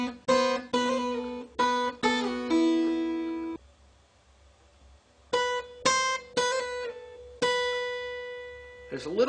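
Acoustic guitar plays a well-known lick: plucked notes in short rhythmic bursts, a pause, then the phrase repeats with ringing sustained notes, clear and close without talking.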